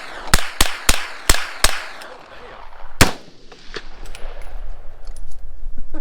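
Several sharp gunshots ring out at an outdoor shooting range, five quick reports in an irregular run followed by a louder single shot, with faint background noise and no speech in between.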